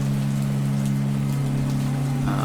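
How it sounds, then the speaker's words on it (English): Steady rain falling at a graveside in a video game, an even, dense hiss of drops over a constant low hum, with no talk. "With the rain, I wasn't expecting anyone here."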